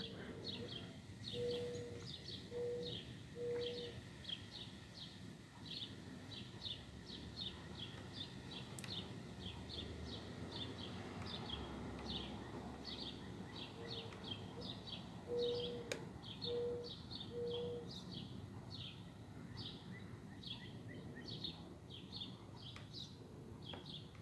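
A distant owl calls outdoors at night, a short repeated hooting phrase heard twice, faint beneath steady chirping insects.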